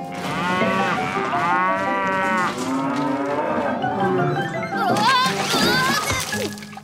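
Several cows moo loudly one after another, long drawn-out lows overlapping, with a splash of water and rustling in between.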